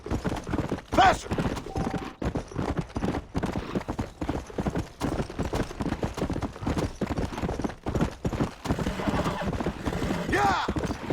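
Horses gallop in the Red Dead Redemption western video game. Their hoofbeats drum quickly and steadily throughout, with brief whinnies and game voices shouting over them.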